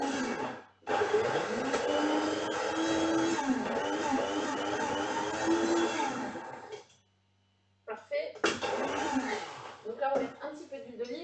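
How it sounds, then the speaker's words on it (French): Blender whirring loudly as it purées garlic for Marseille-style aioli before olive oil is added, running steadily for several seconds, stopping briefly, then pulsing again in short bursts. "je vais d'abord mixer et après, on mettra l'huile dedans."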